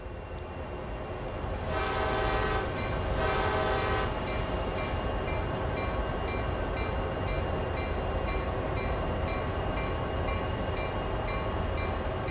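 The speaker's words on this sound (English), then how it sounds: "Set the locomotive up and we'll get going when you're ready." A CSX heavy-haul locomotive in the Train Sim World game sounds a loud horn for roughly three seconds over a steady diesel engine rumble that carries on alone to the end.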